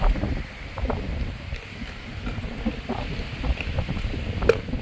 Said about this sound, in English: Freaking cup flying, that's how windy it is.